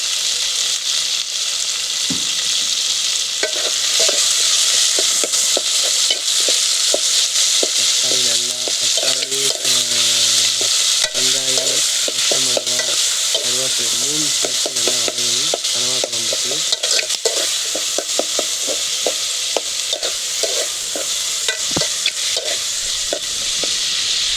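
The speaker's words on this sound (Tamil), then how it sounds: "தக்காளி லேசாக வந்து வதங்கணும்" Tomatoes sautéing in a pan for a squid curry give off a loud, continuous sizzle, with frequent scraping stirs of a utensil against the pan.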